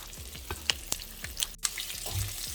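Steelhead trout fillets sizzle in a hot pan with sautéed brassicas, crackling frying punctuated by sharp clacks and scrapes as the fish is flipped, close and fairly loud.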